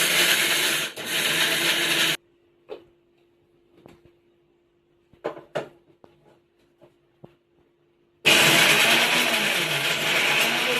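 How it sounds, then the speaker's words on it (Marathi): A kitchen mixer grinder powders cashews, almonds and makhana, loud bursts of whirring before and after a quiet stretch filled with small clicks and handling noises. "आता हे काजू बदाम त्याच्यानंतर जे हे मखाने आहेत ना यांची पावडर मी इथे मिक्सरमध्ये करून घेते"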